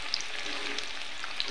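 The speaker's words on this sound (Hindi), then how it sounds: "यहाँ पे मैं कढ़ाई में रख दी हूँ तेल, तेल भी मेरा गर्म हो चुका है। और उसके बाद मैं डाल दूँगी पनीर, और पनीर को अच्छे से मैं फ्राई करूँगी।" Paneer frying in hot oil in a kadai, a steady soft sizzle with faint crackles running throughout, moderately quiet and close, with no talking.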